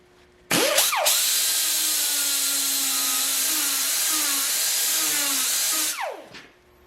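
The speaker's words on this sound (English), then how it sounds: "I can lift it, sand it, lift it and fit it just like this" A power sander works a repair panel on the rear door of a Mercedes W109/108, whirring up, running steadily and close for about five seconds with a slightly wavering pitch, then winding down.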